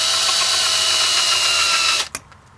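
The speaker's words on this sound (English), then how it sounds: "And then we'll just drill through without going all the way through the door." A power drill runs steadily and loudly into an RV screen door for about two seconds, then stops abruptly, leaving a brief clunk and fading whir.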